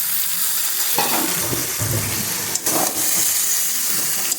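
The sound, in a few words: stirring beans, peas, carrots and paneer in a pan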